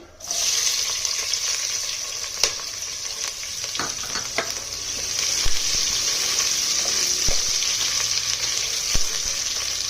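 Onions fry in hot oil in a pan for avarekalu pulao, a loud steady sizzle starting abruptly and continuing for ten seconds, with occasional sharp clicks and clinks of stirring.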